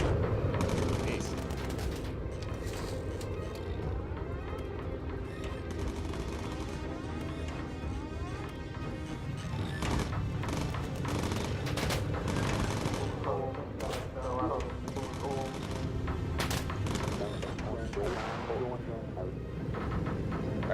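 Machine guns fire from a bomber turret in the video game Bomber Crew: dense, continuous rattling gunfire with scattered booms and mechanical clatter, steady and moderately loud for the whole stretch, with a voice talking over it.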